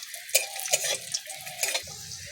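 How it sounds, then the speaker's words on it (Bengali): Cashews and raisins frying lightly in hot oil in a pan for a lentil dish, a soft steady sizzle under brief scraping and stirring clinks of a spoon against metal, heard up close. "কিছুটা কাজু নিয়েছি দিয়ে দিচ্ছি সামান্য কিশমিশ নিয়েছি দিয়ে দিচ্ছি কাজু আর কিশমিশটা হালকা করে ভেজে নেবো"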